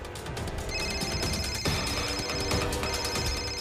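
A telephone rings steadily for several seconds, a bright repeating electronic tone over a noisy indoor background, with the call coming from someone named Naresh.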